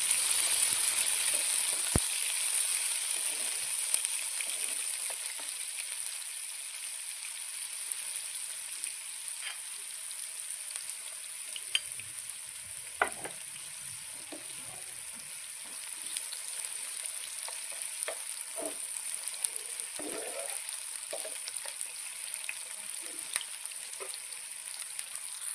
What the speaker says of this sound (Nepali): अब फ्राई भइसकेपछि चाहिँ मैले काटेर राखेको टमाटर प्याजलाई पनि फ्राई गर्दैछु